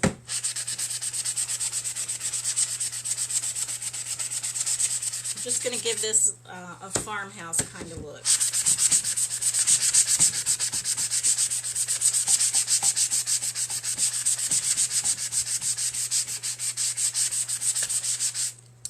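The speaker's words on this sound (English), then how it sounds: "now I'm going to use my sanding block on the whole piece" A fine sanding block is rubbed by hand across a painted wooden mirror frame in a fast, steady scraping rhythm, close and loud, pausing briefly while a person speaks before the sanding resumes.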